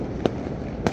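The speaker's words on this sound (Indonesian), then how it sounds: "Sakuliling bungking kabeh loba anu nyeungeut" Firecrackers and fireworks bursting on New Year's Eve in Jakarta, two sharp nearby bangs about half a second apart over a steady background rumble of distant explosions.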